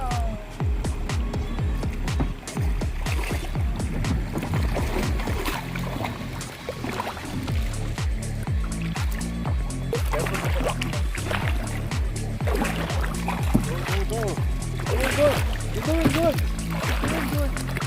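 Paddles dip and splash as a small boat moves along a river at Camp Boa in Rizal during a family camping trip, with steady watery strokes beneath almost constant chatter and children's voices.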